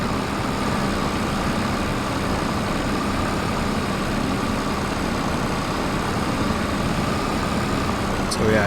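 An old tractor engine in a farming video game runs at a steady idle, a continuous rumbling drone that stays loud and even throughout.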